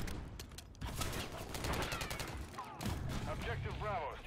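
Dense bursts of automatic gunfire rattle through a Call of Duty match, rapid and continuous at moderate distance, with game voices and chatter mixed in.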